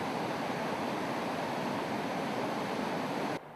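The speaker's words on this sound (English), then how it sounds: "we've arrived at the very last waterfall that we have to portage around" Constant heavy roar of the large Corona Falls waterfall on a remote Guyana river, a dense broadband rush filling the scene without pause, dropping slightly in level at the very end.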